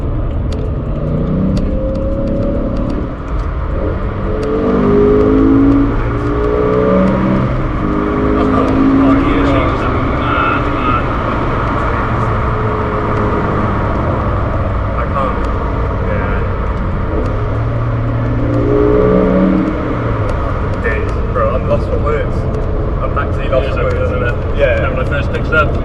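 A BMW M5 with a V10 engine revs loudly and repeatedly, its high-pitched wail rising and falling close by, while people talk over it throughout.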